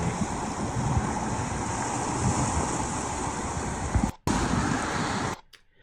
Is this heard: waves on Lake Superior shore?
yes